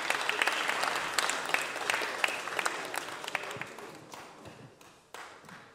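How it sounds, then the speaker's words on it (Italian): An audience at an Italian cultural event applauds to welcome a monsignor, steady crisp clapping that gradually thins and fades out. "Quindi salutiamo con un applauso Monsignor Frezza."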